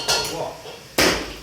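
A cleaver chops through a goat head, two heavy hard blows with a clanking, metallic ring, close up and loud.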